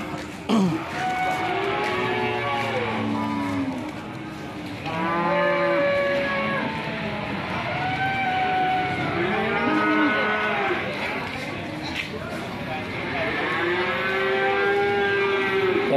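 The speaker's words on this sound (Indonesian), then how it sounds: "Pak Saroji, Pak Saroji mengamati untuk sapinya dikeluarkan." Cattle at a livestock market for young feeder cows, several animals mooing and lowing repeatedly, drawn-out calls overlapping one another against a busy background murmur.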